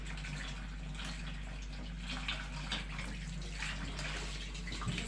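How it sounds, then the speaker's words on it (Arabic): Running water from a tap pours steadily over a pipe cut of meat as it is rinsed clean, a soft, continuous splashing flow heard alone, without voices. "واشطفها شطفه كويسه طبعا"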